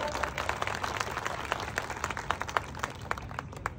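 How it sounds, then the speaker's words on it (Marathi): An audience claps at a political campaign speech in Kolad, scattered applause with distinct individual claps, moderately loud and a little distant, with no talk over it. "आणि म्हणून अंतुले साहेबांना एकदा टाळ्या वाजवा त्यांच्याकरता"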